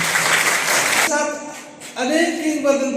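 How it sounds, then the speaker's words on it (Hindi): A burst of audience applause at a local gathering with students present lasts about a second, loud and dense, then cuts off as a voice begins speaking. "जोरदार तालियां होनी चाहिए।"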